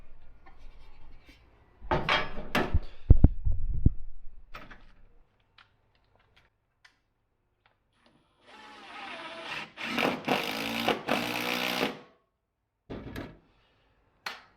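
A screw is driven in to mount an Obsessed Garage IG200 stainless steel shelf on a garage wall. Short scraping and knocking bursts come first, then a longer, grinding whir from the driver after a quiet gap, heard close with no voices.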